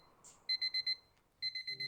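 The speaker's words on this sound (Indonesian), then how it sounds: "Suara alarm yang nyaring" A loud alarm clock rings in two bursts of rapid, evenly spaced electronic beeps, with a short quiet gap between them. The beeps are close and shrill against a faint background hum.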